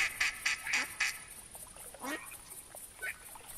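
Black ducks quack in a short burst of four or five evenly spaced calls, then fainter scattered quacks follow across a quiet hunting scene in theHunter Classic, no voices.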